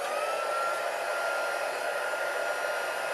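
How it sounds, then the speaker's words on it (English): Heat tool for heat embossing powder, blowing a steady, even hiss like a hair dryer, close up and unbroken for the whole stretch. "I will heat up my heat tool."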